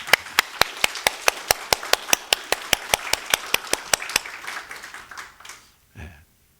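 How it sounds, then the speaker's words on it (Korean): A church congregation clapping in unison, a steady rhythmic beat of sharp claps about four per second that loosens and fades near the end, followed by a brief low thump. "우리 봉사하시는 분 위해서 한번 격려의 박수 좀 부탁드립니다"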